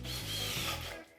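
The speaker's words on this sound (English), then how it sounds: "Next, we'll drill holes for the hagotaboru, the metal tie-down bolts." Power drill boring holes for metal tie-down bolts through timber in traditional Japanese carpentry joinery, a close, continuous grinding whir that fades near the end.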